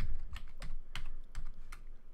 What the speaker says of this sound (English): we just go down to the bottom and we type in dispatch